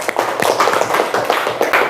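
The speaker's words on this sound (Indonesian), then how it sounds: "tepuk tangan untuk anak-anakku semua" Children applauding in a classroom, a loud, steady run of fast overlapping hand claps close by, with no talk.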